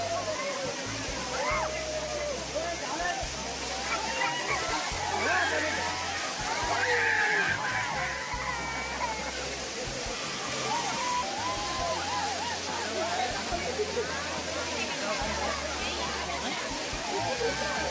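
Waterfall in hilly country, a steady broadband rush of falling and flowing water that continues throughout, with voices talking over it and low, blocky background sounds.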